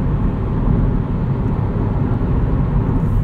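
Loud, steady road noise fills the cabin of a 2020 Subaru WRX driving at night, a constant low rumble and tire roar with no breaks and no voices.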